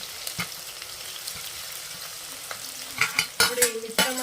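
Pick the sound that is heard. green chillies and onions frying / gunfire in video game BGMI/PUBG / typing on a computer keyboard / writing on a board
green chillies and onions frying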